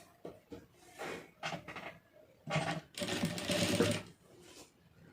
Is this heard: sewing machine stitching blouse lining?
yes